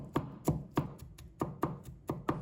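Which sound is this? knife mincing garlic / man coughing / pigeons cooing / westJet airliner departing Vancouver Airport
knife mincing garlic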